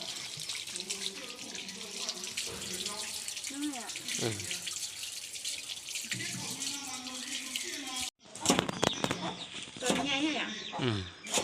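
Food is washed under a running tap for a home-cooked curry. The water pours in a steady stream while voices talk over it, and the flow turns louder and splashier near the end.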